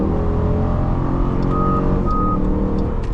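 Inside a 2025 Dodge Durango R/T on the road, the blind spot monitor gives two short, clear electronic beeps a moment apart over a loud, steady engine and road drone.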